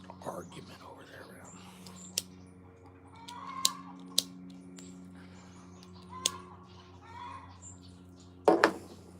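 Several hens and a rooster in a rainforest farmyard cluck and squabble at a middle distance, with occasional sharp calls rising over a steady low hum and faint whispered talk.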